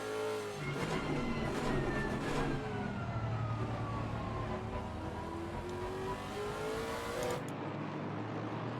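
Race cars in Assetto Corsa Competizione driving into the pits, a steady engine drone with gliding pitch as cars slow and pass, fairly quiet and continuous, cutting off near the end.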